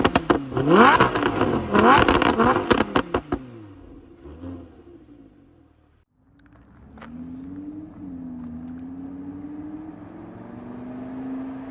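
A Lamborghini's engine and exhaust revving hard in a burst of rapid, loud rises and falls, then dropping away to near silence before settling into a steady, smoother drone; no talking.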